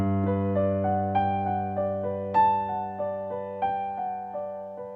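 A simple piano melody plays alone, notes stepping downward in an even pattern with sustained low bass tones beneath, each note struck clearly and ringing into the next.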